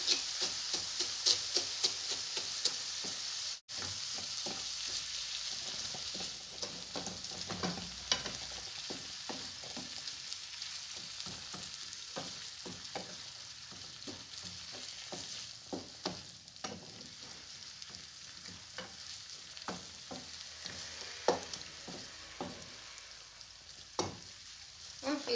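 Bolognese sauce fries in a pan with a continuous hiss while a spoon stirs it in frequent short scraping strokes, close and steady throughout.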